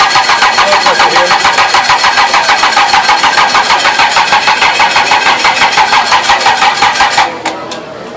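An engine in a Lincoln Tech engines class is cranked by the starter, a loud, rapid, rhythmic churning held for about seven seconds without catching before it cuts off, with a voice briefly heard.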